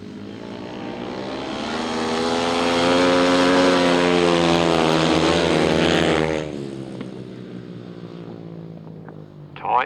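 Racing engines at full throttle on a circuit swell into a loud, buzzing, harmonic drone as the machines approach and pass close by, then drop off sharply and fade, with a brief burst near the end.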